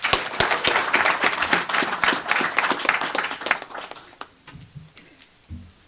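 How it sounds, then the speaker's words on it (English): An audience at a sheriff's press conference applauds, dense clapping for several seconds that thins to a few scattered claps before fading out. "Thank you for your applause"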